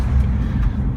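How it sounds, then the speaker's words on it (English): A 1965 VW Deluxe Bus engine runs steadily while the bus drives, giving a close, continuous low rumble with road noise and no voices. "now the bus just runs so smooth"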